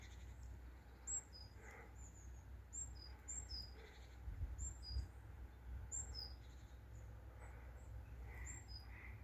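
Birds call outdoors at Partington, a scatter of short high chirps and caws repeating irregularly at a moderate distance over a steady low wind rumble.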